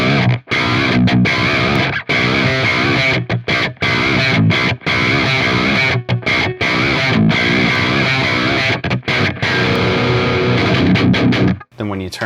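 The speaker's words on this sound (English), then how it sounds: "it sounds really cool as a rhythm tone as well, especially when I flip my guitar to the middle pickup position" An electric guitar runs through the Neural DSP Archetype Gojira amp plugin with a distorted metal rhythm tone from the middle pickup position, playing loud, dense chugging riffs with brief choked gaps between phrases.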